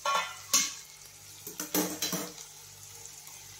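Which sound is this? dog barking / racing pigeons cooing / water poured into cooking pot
water poured into cooking pot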